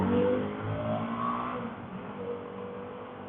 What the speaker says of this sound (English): I'm riding my 2024 CVO Pan American